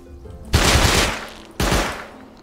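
AK assault rifle fire in a video game, two loud, close bursts of rapid automatic shots, the first about a second long and the second shorter after a brief pause, with no voices.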